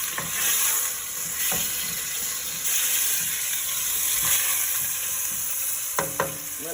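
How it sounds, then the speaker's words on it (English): Chow mein ingredients seasoned with salt sizzle and fry steadily in a pan, with a continuous hiss and occasional stirring clatters, close and fairly loud, no talking. "Let that sizzle."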